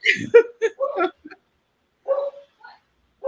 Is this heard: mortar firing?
no